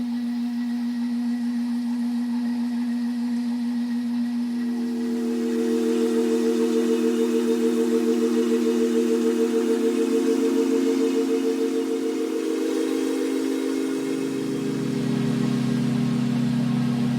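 A steady mechanical hum with a low rumble from a dishwasher, washed in reverb; the tone thickens midway and deepens near the end, continuous and fairly loud throughout.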